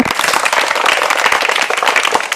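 A school audience at a televised Malayalam talent show claps steadily and fairly loudly for a couple of seconds, with no talk over it.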